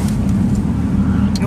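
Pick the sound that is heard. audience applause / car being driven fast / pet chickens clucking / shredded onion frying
car being driven fast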